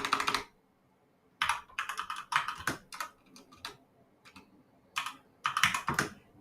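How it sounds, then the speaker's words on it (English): Bursts of clicky typing on a mechanical computer keyboard, close up, come in uneven clusters of rapid keystrokes separated by short pauses. "I bought this mechanical keyboard"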